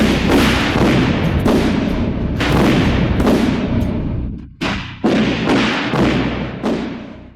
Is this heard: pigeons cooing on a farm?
no